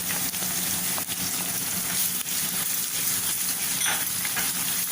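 Onion, green chili and ginger-garlic paste frying in a pan, giving a steady, dense, close sizzle that runs without break, with no talking over it.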